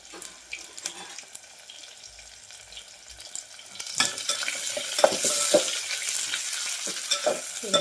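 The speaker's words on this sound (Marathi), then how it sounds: "कांदा भाजून घ्यायचा आहे आपल्याला व्यवस्थित गोल्डन कलरवरती" Chopped onion frying with cumin and cinnamon, a quiet stirring and clinking at first, then a louder, steady sizzle from about halfway with scraping strokes of a spoon in the pan.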